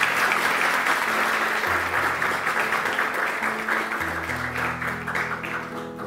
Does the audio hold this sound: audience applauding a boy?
yes